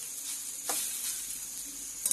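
Wild prickly lettuce greens stirred in a hot pan, a faint steady sizzle with a couple of soft scraping stirs, quiet and without talk.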